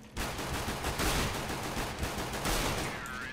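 Gunfire in Counter-Strike: Global Offensive, a dense continuous burst of rapid shots lasting a few seconds, moderately loud with no talk over it.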